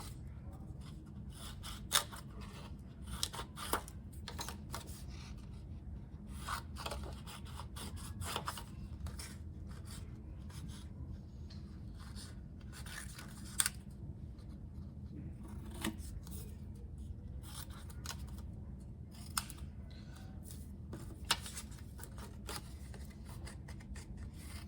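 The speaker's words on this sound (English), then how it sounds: "Our first step is we're gonna cut out our shapes." Scissors snip repeatedly through paper as shapes are cut out for a children's fox craft, quiet close clicks and rasping cuts in an irregular rhythm over a low steady background hum.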